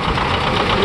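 A John Deere tractor idling at a tractor show parade in Saint Ignace, a brief, steady low rumble heard close and loud, with a faint knocking texture and no break.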